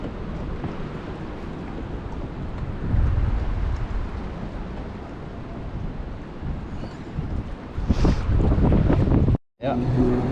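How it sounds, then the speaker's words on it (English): High wind gusting across a lake during early spring crappie fishing, a broad rushing buffet on the microphone that strengthens partway through, with water and boat noise underneath. "There's some high winds, y'all."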